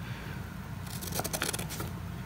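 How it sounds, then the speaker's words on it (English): Scissors cut along a folded paper crease in a quick run of small, close snipping sounds over a steady low background hum, with no voices. "I'm gonna take our scissors and cut along that fold line."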